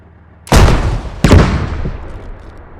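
Two heavy booming launches from a tandem heavy anti-tank weapon in the Squad game, each a loud sharp blast with a long rumbling tail, the second following about three-quarters of a second after the first.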